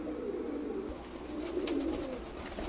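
Kasuri pigeons at a pigeon sale give faint, soft coos against a low background murmur. The birds call quietly, and no one talks over them.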